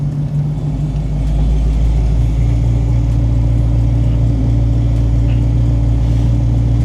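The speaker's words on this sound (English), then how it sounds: "Yeah, them gears busting." A car engine hums and rumbles steadily from inside the cabin while driving, a low constant drone that rises slightly after the first second and then holds even, with no talk.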